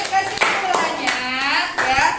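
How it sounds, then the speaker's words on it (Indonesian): Schoolchildren in a classroom clap their hands, a few sharp claps standing out over mixed voices and tones in a short burst. "Tepuk tangan untuk semuanya."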